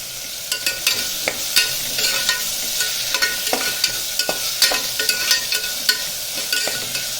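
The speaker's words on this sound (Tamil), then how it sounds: "இஞ்சி பூண்டு விழுதும் வெங்காயமும் நல்லா பச்சை வாசனை போக வதக்கிக்கலாம்." Onions and ginger garlic paste sizzle steadily in a pan for millet pulao while a spoon stirs them, with frequent sharp scraping taps over the constant frying hiss.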